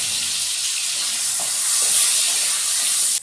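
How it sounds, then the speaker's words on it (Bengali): Gobindobhog rice fries in oil in a pan with a loud, steady sizzle and hiss close up, with faint stirring scrapes partway through. "গোবিন্দভোগ চালগুলো ভেজে নিচ্ছেন"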